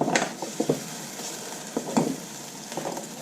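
Green peas dry-cook in a hot pan as they are pressed into a small ball, giving a soft steady sizzle broken by several sharp scrapes and taps of stirring.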